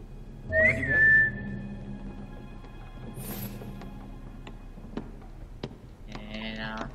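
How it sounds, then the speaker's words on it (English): A person whistles a short high tune near the microphone while playing Assassin's Creed Russian Chronicles, followed by quiet game sounds, scattered clicks and faint tones. "I'm just whistling."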